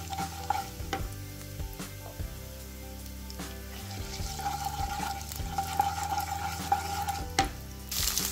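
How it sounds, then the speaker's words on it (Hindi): Chopped onions and cumin fry in ghee for dhaba-style jeera aloo, a soft steady sizzle broken by scraping and clinking stirs of a spoon in the pan. "अब इसमें मैंने डाल दिए चॉप्ड अनियन, तो इनको अब हमने हल्का गोल्डन ब्राउन कर लेना"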